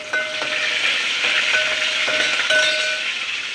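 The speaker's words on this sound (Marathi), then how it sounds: "आणि आता त्याला फोडणी देण्यात येत आहे" A hot tempering of mustard seeds, garlic and curry leaves sizzles close by, a steady hiss with light scraping and popping over a cooked pumpkin dish, with no voices.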